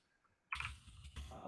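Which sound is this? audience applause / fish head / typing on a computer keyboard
typing on a computer keyboard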